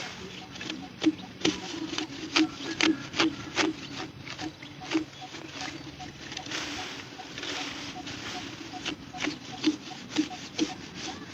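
A hand saw cuts through wood in a rural field, with rhythmic rasping strokes, some quick and sharp, others longer, at close range over a background of outdoor ambience.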